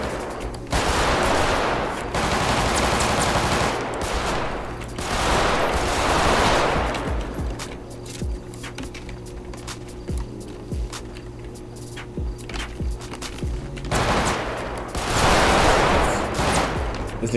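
Gunfire in the FiveM video game: bursts of rapid automatic shooting come in loud clusters at the start, around six seconds and again near the end, with scattered single shots and a humming background between them.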